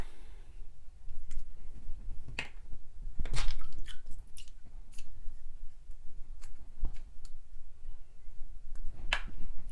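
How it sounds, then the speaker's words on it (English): Soft wet squishing and clicking as fingers work soap through a wet makeup brush, irregular faint squelches and snaps over a low background hum. "I basically just dip the brush in the soap. I work it through with my fingers"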